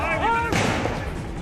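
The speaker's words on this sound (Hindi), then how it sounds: "इस बीच एक बार फिर गोली चलने की आवाज सुनाई दी" A gunshot rings out during a street protest as police advance on demonstrators, a loud broadband crack at about half a second that rolls into a sustained reverberant rumble, with crowd noise and voices underneath.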